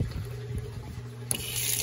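Fish water from an aquaponics system runs through a split in the hydroponic irrigation feeding Dutch buckets and grow towers, a steady close trickle and splash of flowing water with a slight surge near the end.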